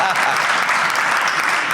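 Theatre awards audience at the Lucille Lortel Awards claps loudly and steadily in a brief burst, a dense wash of many hands close by with a faint voice underneath.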